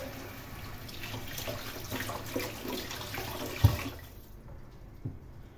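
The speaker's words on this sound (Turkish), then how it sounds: "Ben şimdi ellerimi yıkayacağım." A water tap running while hands are washed in a home kitchen, a steady close splashing hiss with a small clunk near the end before the flow stops.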